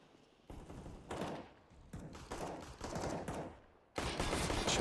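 Automatic rifle fire from a Counter-Strike match, several sustained bursts of rapid shots in close succession with brief gaps, ending in a loud continuous volley.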